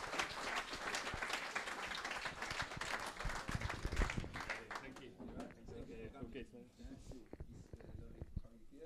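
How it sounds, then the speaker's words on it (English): An audience at an evening event breaks into a loud, dense round of applause for a guest named Gary; it fades after a few seconds as voices talk. "Round of applause for Gary."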